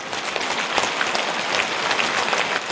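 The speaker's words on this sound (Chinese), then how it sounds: "现在让我们用最热烈的掌声恭请我们尊敬的卢军宏" A large audience at a Buddhist Dharma assembly in Toronto gives dense, sustained applause welcoming Master Lu Junhong, a steady roar of clapping with no pauses.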